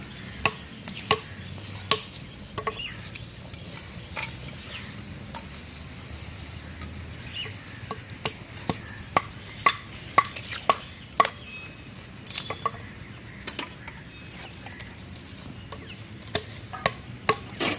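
Taro stems being stirred in a pot of hot salted water make irregular sharp knocks and clicks of a utensil against the pot, some in quick clusters, over a soft, quiet background.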